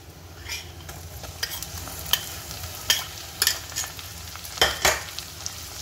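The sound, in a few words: stirring crushed ginger, garlic and shallots frying in pan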